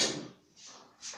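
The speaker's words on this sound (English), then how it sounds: "so I had to close the door" A door swings shut indoors, giving a short muffled thump and brief rattle followed by a second softer knock, close by and otherwise quiet.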